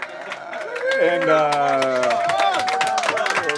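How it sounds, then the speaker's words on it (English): Applause and cheering rise from a crowd at an indoor event, steady clapping under a voice that briefly sustains a musical, sung tone before other voices chime in. "So let me get a round of applause while I switch mics with this brother"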